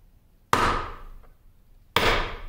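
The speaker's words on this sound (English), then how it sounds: "Let's grab a hammer and punch." Two sharp, loud metallic strikes of a hammer on a punch, driving a taper pin out of the quick change gearbox of a 1950 LeBlond Regal 17-inch lathe, each ringing briefly before fading.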